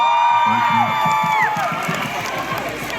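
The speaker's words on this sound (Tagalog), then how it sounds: "At dahil malakas yung palakpak nila" Audience at a live concert applauding and cheering loudly, a dense wash of claps and shouts running steadily throughout with whoops rising above it.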